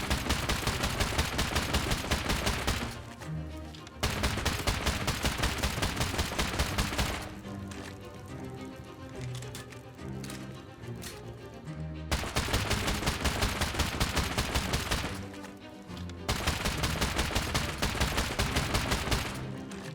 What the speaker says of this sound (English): As soon as I start shooting this expo ammo